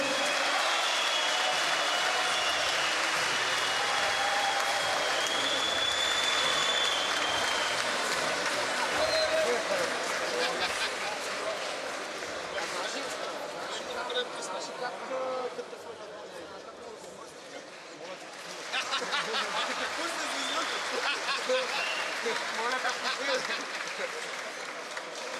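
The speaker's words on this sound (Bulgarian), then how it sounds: "Вашите аплодисменти за Армен Назарян" A large crowd applauds at a wrestling event for Armen Nazaryan, a two-time Olympic Greco-Roman wrestling champion, with dense, sustained clapping that dips briefly midway before swelling again, mixed with crowd babble and voices.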